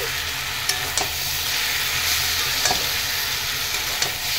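Fried kochur loti (taro stolons) being stirred with poppy seed paste in a pan, a continuous close sizzle broken by light clicks and scrapes of the spatula.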